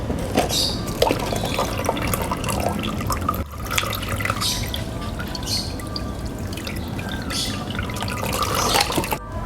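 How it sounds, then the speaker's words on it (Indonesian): Plain water pours steadily and splashes into the soil of a potted Aglaonema plant, a continuous trickling and dribbling sound up close with no talking. "Ya, kita siram dengan air biasa ini, ya."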